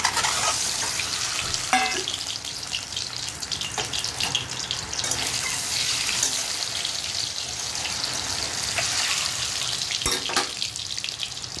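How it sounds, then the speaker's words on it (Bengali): Eggs frying in hot oil in a wok make a steady, close, crackling sizzle throughout, with occasional sharp clicks and scrapes from stirring and no talk. "ডিমগুলো দিয়ে দেবো কড়ার মধ্যে।"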